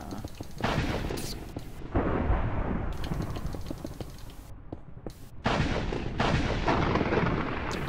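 A thunder and lightning storm effect in a game set on Jupiter gives heavy, booming cracks and rolling rumbles. The loud bursts come one after another and keep up for about eight seconds.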